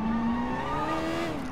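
A car in the game Sleeping Dogs locks its handbrake and skids, giving a steady loud tire squeal with a high whine over engine rumble that holds for the full moment.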